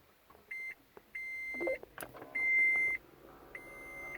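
A Toyota Prius with a dead key fob powering on at the push of the start switch, giving a series of clear electronic beeps and chimes in short bursts over a quiet cabin, with a soft click in the middle.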